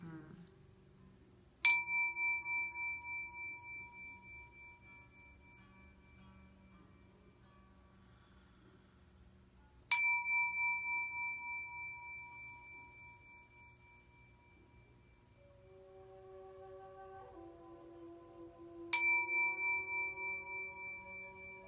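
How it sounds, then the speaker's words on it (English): A Tibetan bell is struck three times in a quiet room, each strike a bright, clear ding that rings and slowly decays, with a softer lower tone drifting in between the last two strikes. "Purpose of the Tibetan bell is to lift vibration"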